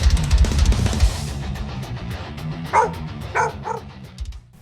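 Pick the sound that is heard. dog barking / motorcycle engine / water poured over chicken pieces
dog barking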